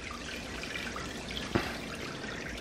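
Aquarium return pump in a mini tank restarting, a steady low watery trickle and gurgle with one brief splashy burst midway, close by and without talking.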